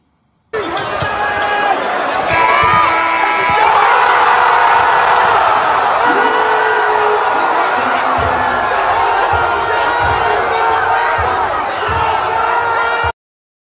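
A crowd cheering in a basketball arena, loud and sustained, a roaring wash with shouts rising from it and a few sharp thumps underneath, lasting nearly the whole stretch before cutting off abruptly.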